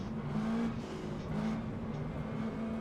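Race car engine in a NASCAR racing video game at Homestead-Miami, a faint, steady droning roar with slight rises in pitch, heard alone without talk.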